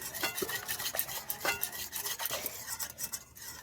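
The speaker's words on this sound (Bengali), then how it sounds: "দুধের মধ্যে দিয়ে দিচ্ছি। দেখুন দইটা দিয়ে এবার দুধটা কিন্তু আমি ভালো করে একটু ঘেঁটে নিচ্ছি।" Spoon stirring yogurt into milk in a bowl to make steamed yogurt, repeated soft scraping and clinking strokes at an uneven rhythm, close but fairly quiet, with no talk.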